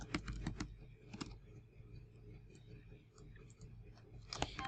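Typing on a computer keyboard: bursts of quick, close clicking keystrokes with pauses between them, moderately quiet against a faint room background.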